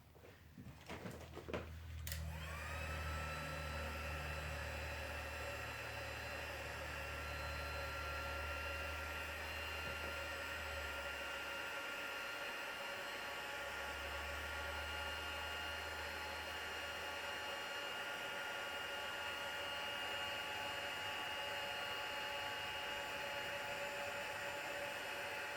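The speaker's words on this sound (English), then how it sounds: "Run it with your heater, your heat tool, and that brings it up like so." A heat tool blows a steady, loud whir for embossing a stamped card. It follows a few sharp clicks at the start and runs unbroken for about twenty seconds, close by.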